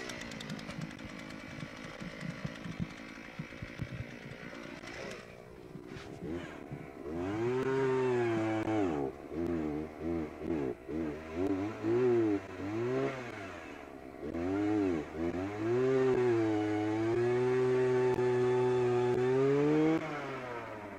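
A gas-powered drill engine used for tree planting sputters through a few rough pull-start attempts, then catches and runs loud and close, revving up and down in repeated bursts before settling into a steady roar.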